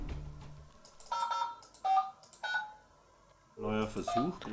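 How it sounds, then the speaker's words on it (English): Tones of a telephone being dialed to a Romanian number from an office, several short beeps in a row, with speech before and after. "From his office, he calls a Romanian phone number"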